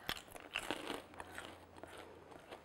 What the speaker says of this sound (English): It's sweet, crunchy, and then the popcorn underneath.